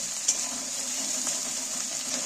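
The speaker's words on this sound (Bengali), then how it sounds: "আদা রসুন একসাথেই তুলে দিচ্ছি" Ginger and garlic paste fries in a pan with a soft, even sizzle, while a few faint stirring clicks break through the steady hiss over a couple of seconds.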